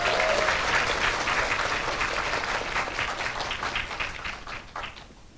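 Sustained applause with cheering fills a university entrance ceremony hall for incoming and transfer students, a dense, loud wash of many hands clapping that slowly thins and fades toward the end.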